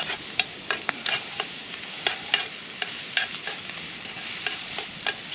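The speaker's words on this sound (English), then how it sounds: "Has that sizzle." Squid with garlic, chili and ginger sizzles over an open fire near mangroves, a steady soft frying hiss broken by scattered crisp pops and stirring clicks, close up with no talking.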